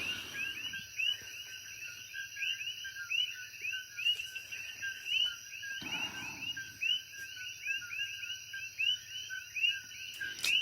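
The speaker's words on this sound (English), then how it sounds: "Just sit back and listen to these crickets and think about that." Crickets chirp at night in steady, overlapping pulses that run throughout, with a faint low hum underneath and no voices.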